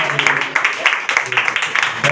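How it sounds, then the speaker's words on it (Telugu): A group claps in a steady rhythm at a birthday cake cutting for nine-year-old Benita, the beats coming evenly and fairly close, with voices in the background. "అందరూ చప్పట్లు గట్టిగా"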